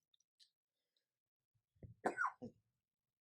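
A few short, dry coughs from a person, close and fairly loud, coming in a quick cluster after near-silence.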